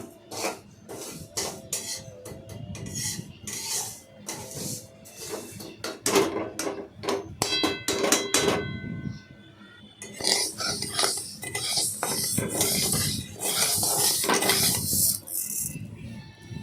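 Fried moong dal stirred in a pan with a utensil, giving repeated sharp scraping and clinking strokes in an irregular rhythm, then a denser, continuous rattling stretch; close and fairly loud, with no talking.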